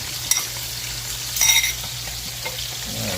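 Two eggs frying with crushed tomato in a pan give a constant close sizzle, with brief utensil clinks and a short burst of louder spattering partway through.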